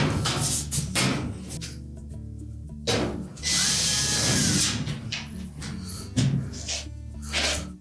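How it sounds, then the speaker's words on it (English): A power drill drives screws into the replacement seal of a Whirlpool range, several whirring bursts separated by short pauses, close and fairly loud, with faint handling noises between. "We'll just put a couple of screws in first"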